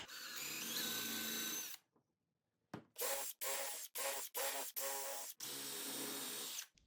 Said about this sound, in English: I'm gonna start these off with this drill block just so I can get them going straight.